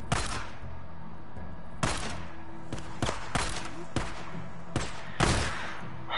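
Gunshots from the video game Days Gone ring out as sharp, separate blasts at irregular intervals, loud and punchy, with quieter game ambience between them and no talking.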